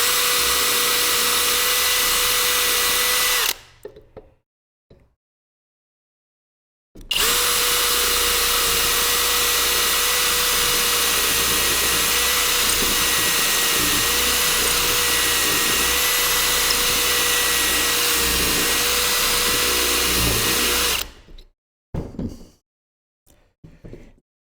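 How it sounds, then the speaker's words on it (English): Electric drill with a brad point bit running into wood, a steady loud motor whine broken by a short pause, then a long continuous run before stopping. "My drill bit's not drilling."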